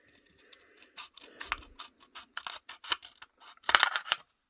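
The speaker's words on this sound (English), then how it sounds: "these are just some scissors I have" Craft scissors snip through a thin aluminium beer can, giving a run of sharp clipped cuts and metallic scratches, close and fairly quiet, with no talk.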